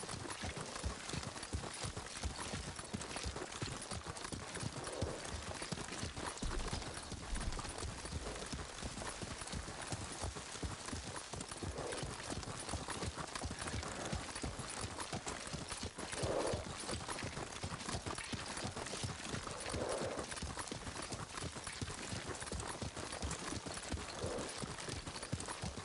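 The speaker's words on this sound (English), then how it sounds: "Lord Sakai taught me to ride a horse." Horse hooves clip-clop steadily and continuously while riding in the Ghost of Tsushima video game, a rhythmic trotting patter that stays near and even throughout, with faint voices and ambience underneath.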